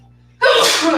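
A single sharp, loud sneeze bursts out of near silence during a live stretching class, close to the microphone.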